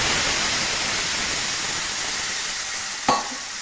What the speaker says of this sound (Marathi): घालणार आहे 2 ग्लास पाणी.